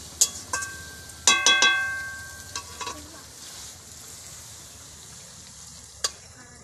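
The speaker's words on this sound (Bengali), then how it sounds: "একটু নাড়াচাড়া করে তারপরে আমি নামিয়ে নেব।" A spatula scraping and clattering against a pan of spicy snail curry, a few sharp metallic knocks over a soft, steady sizzle that fades, with one last clink near the end.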